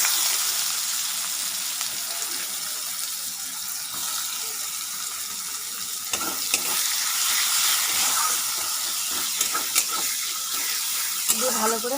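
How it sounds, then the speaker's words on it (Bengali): Sliced onion sizzles loudly in oil in a pan, a continuous close frying hiss with intermittent scraping of the stirring spoon. "পেঁয়াজটা ভালো করে ভাজা হয়ে গেল"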